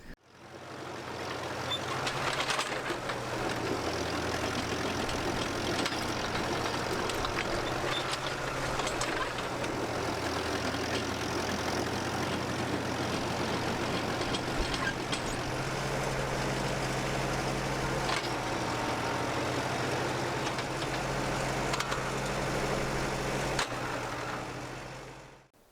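A tractor engine idles steadily and close by during utility pole setting, a continuous low rumble with a faint mechanical whine that holds alone for the full stretch.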